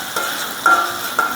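Chopped onion and prawn heads fry in a generous amount of oil in a pan, a close, loud sizzle broken by a few quick stirring scrapes, with no talking.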